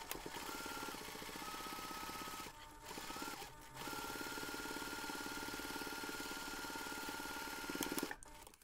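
A sewing machine runs steadily, basting a pocket in place on a small fabric jewellery pouch, its even motor hum and rapid stitching broken by two brief pauses before resuming and stopping.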